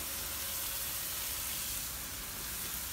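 A water hose rinses wood cleaner off a hardwood timber privacy screen, producing a steady, broad hiss of spraying water that runs unbroken and fairly faint throughout.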